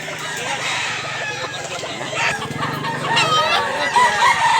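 A rooster crows loudly and close by in Mantalungon, Cebu, with hens clucking around it and faint voices in the background.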